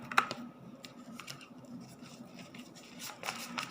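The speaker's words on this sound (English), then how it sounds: "So why am I shuffling?" Tarot cards shuffled by hand give faint papery flicks and soft scrapes, with a few sharper snaps near the start and end over a quiet room hum.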